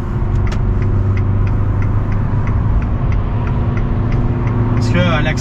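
A 2015 Fiat 500C 1.2 cabriolet accelerates with a steady, loud engine drone heard from inside the car, pedal nearly floored, with a voice talking over it.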